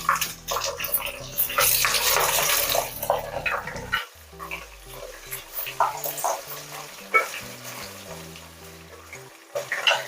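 Chopped onion pieces frying in oil for crab biryani, a loud bubbling sizzle that swells and fades with repeated stirring and utensil scrapes, busiest in the first four seconds, then more broken and uneven.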